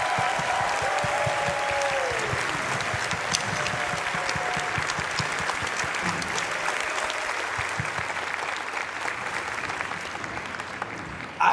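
Sustained applause from a large convention audience at a closing ceremony, steady dense clapping for volunteers that continues without letup.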